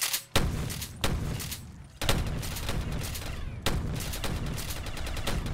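Rapid gunfire from a heavy weapon in Call of Duty Black Ops 3 Zombies on a custom courtyard map, loud sustained bursts broken by a few short pauses, with no talking over it.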